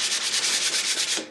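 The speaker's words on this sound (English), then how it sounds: "you want to sand all of the epoxy off until you have nothing left except in the pores" Steady rhythmic sanding strokes rub across guitar wood, taking epoxy pore fill back down to bare grain, close and loud with a brisk back-and-forth pulse and no voices.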